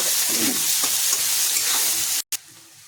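Onions frying in a pan with cumin and bay leaf in a village kitchen, a loud, steady sizzle with crackling spits close by, broken by a brief drop near the end.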